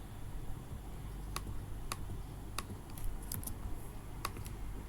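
Code is typed on a computer keyboard in scattered, crisp key clicks over a quiet hiss, with a short quick burst near the middle and no talking.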